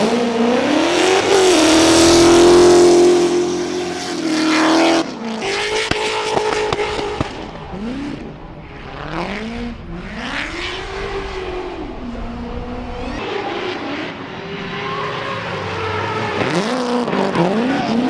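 A BMW E30 drift car, running rough and out of tune, revs hard at a Formula Drift event in St. Louis. Its engine rises and falls through repeated loud surges, with bursts of tire noise mixed into the din and no talking.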